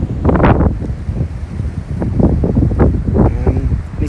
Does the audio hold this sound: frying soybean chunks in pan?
no